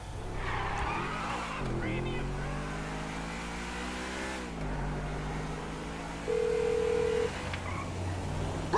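In the game GTA V, a phone call rings out on speakerphone as a steady electronic tone, briefly louder near the end, over car engine hum and revving, with people talking.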